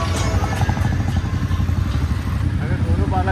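Big motorbike riding along a coastal road in Gujarat toward Madhavpur Beach, its loud engine a steady close drone with wind rush, and a voice talking over it.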